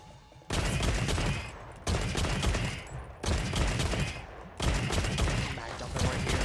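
Rapid bowgun fire from a mag dump in the video game Monster Hunter Wilds: several dense, loud volleys of shots, each lasting about a second, with short gaps between them.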